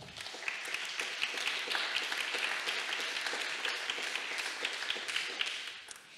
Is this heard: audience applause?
yes